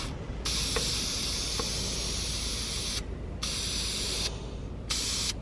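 Three bursts of spray paint hiss from an aerosol can onto a fern, close and steady, each lasting a second or two, separated by short pauses with faint background noise.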